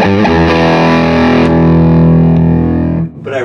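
An electric guitar plays through a small tube amp with heavy distortion and reverb. A loud sustained chord rings out for about three seconds, then breaks off into a short new attack.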